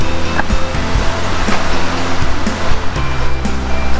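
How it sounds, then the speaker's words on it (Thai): Erawan waterfall in Kanchanaburi, with water cascading over small tiers in a loud, continuous, close rush that holds steady throughout with no voices. "นี่เราเริ่มเห็นน้ำตกเป็นชั้นๆ เล็กๆ ชั้นน้อย ๆถี่ขึ้นเรื่อยๆนะครับ"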